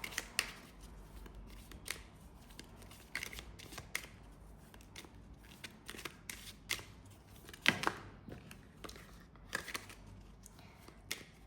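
Tarot cards are shuffled by hand before a blind card draw, making a run of quick, papery riffles and flicks in irregular bursts, close and fairly soft, with no voices.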